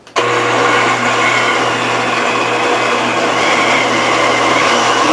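A kitchen blender on its chop setting, whirring through tomatoes for juice, starts abruptly and then runs loud and close with a steady motor drone that holds level to the end.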